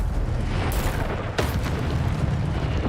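Incendio fire spell cast in the video game Hogwarts Legacy, loud booming bursts of flame with two sharp whooshing flares over a heavy rumbling game background.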